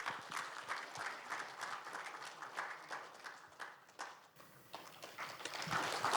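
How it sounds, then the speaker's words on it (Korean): An audience at a founding ceremony claps as a Buddhist monk is welcomed to the stage, a rippling round of applause at moderate distance, uneven and somewhat faint, swelling again toward the end. "여러분 큰 박수로 맞아 주십시오."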